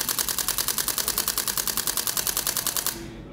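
Olympus OM-1 mirrorless camera's mechanical shutter firing a rapid continuous burst at 10 frames per second, a steady train of crisp, loud clicks for about three seconds before stopping abruptly.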